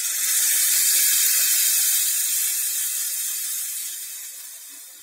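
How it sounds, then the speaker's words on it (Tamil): Water poured into a pot of dal with fried onions while cooking mango dal, a steady close-up splashing hiss that runs for several seconds and slowly fades, with no talk. "கொஞ்சம் போல தண்ணி விட்டுக்கலாம்"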